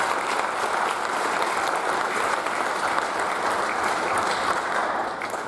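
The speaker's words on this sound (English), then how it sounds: "So if we give him a round of applause." Steady, dense applause from the audience at a high school baseball awards ceremony, sustained clapping for a senior player that fades slightly at the end.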